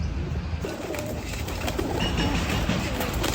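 Pigeons coo in a kept flock, soft repeated cooing calls over a dense steady background rumble, fairly close and clear.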